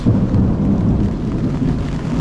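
A deep, sustained rumble of thunder from a lightning storm at Gauley River, West Virginia, rolls on with rain hissing steadily underneath, loud and close throughout.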